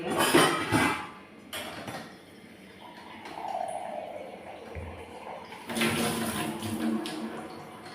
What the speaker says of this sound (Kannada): ಇದಕ್ಕೆ ಎಷ್ಟು ಬೇಕಷ್ಟು ನೀರು ಹಾಕಿ ಬೇಯಿಸಿ